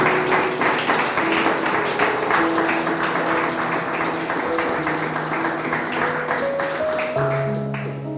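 Congregation applause in a church service, a sustained ripple of many hands clapping at moderate volume over a held musical tone that shifts in pitch.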